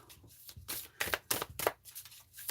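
Starseed Oracle cards shuffled by hand in short riffling bursts with brief pauses between, close and fairly quiet, no talking.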